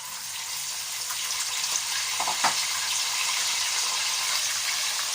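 Smoked mackerel frying in a pan over a lowered flame, with a continuous dense sizzle and a brief scrape or clatter midway.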